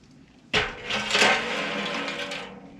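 A single sharp hammer strike on a hot metal trap, followed by a ringing, clattering resonance that slowly fades out.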